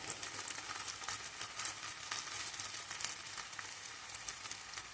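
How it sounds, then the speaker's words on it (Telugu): Ginger garlic paste frying in a pan for chicken curry, a steady close crackle and sizzle with soft popping spatters throughout, no voices. "ఇప్పుడు 2 టీ స్పూన్లు అల్లం వెల్లుల్లి పేస్ట్ వేస్తున్నానండి."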